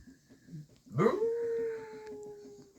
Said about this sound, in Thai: ให้มันเห่าดิ